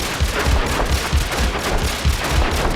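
Dense crackling bursts from a modular synthesizer patch mimic fireworks, a continuous chaotic stream of sharp pops and low thumps at steady loudness with no talk.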